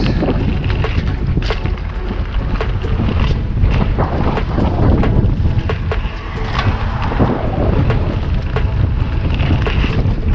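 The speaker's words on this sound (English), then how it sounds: "the wind, it's been blowing hectic over the last 3 days" Strong wind roars into the microphone during a local mountain bike ride, a loud continuous rushing buffet that runs through the whole stretch with no talk over it.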